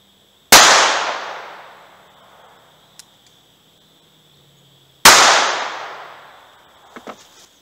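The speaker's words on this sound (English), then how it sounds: "Next up is the CCI Mini Mag 40 grain 22 long rifle." Two sharp .22 LR gunshots from a tiny NAA Mini revolver firing CCI Mini Mag 40-grain rounds, each a loud crack with a long decaying echo, spaced about four seconds apart, with faint clinks between.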